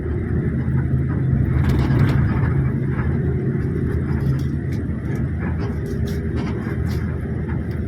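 A bus engine rumbles low and steady while the coach drives along a long intercity road, with road noise and faint rattles throughout and no talk.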